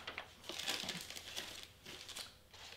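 Printer paper being handled near a sublimation EcoTank printer, with soft crinkling and rustling in several short bursts, close and quiet, with no talking.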